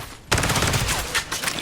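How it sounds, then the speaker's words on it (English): Rapid burst of automatic gunfire in an Unreal Engine 5.1 shooter game with blind fire from cover, loud and dense after a brief quiet start. "I love this blind fire."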